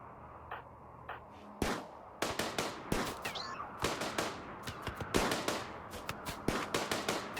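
Gunfire in the video game RimWorld: a string of sharp, crisp shots fired in irregular bursts, some close together and some spaced apart, fairly loud over a quiet background with no talking.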